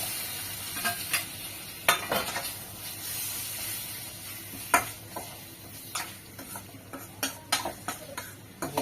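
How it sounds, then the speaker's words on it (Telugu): A tomato frying with garlic in hot oil, a soft steady sizzle punctuated by irregular sharp ladle taps and scrapes against the pan, close and fairly quiet, no speech. "మగ్గిన వెల్లుల్లి కూడా వేసి ఫ్రై గోల్డెన్ ఫ్రై అయితే ఒక టమాటా వేసేస్తాను"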